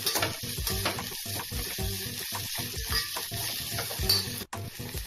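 Onions and salt sautéing in a pan for cabbage kootu: a steady close sizzle with repeated scraping stirs of a spoon against the pan, no talking.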